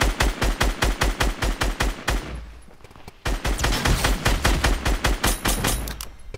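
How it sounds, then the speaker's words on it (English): Rapid bursts of automatic gunfire from a Fortnite Mobile match, loud and rhythmic, with a brief lull of rumbling noise before the firing resumes in fast repeated volleys. "That was some nice shooting there."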